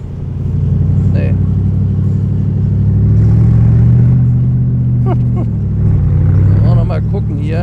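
A 2008 Mercedes SLR McLaren Roadster engine rumbles loudly and deeply from close by, swelling as it revs and settling back, with people talking over it.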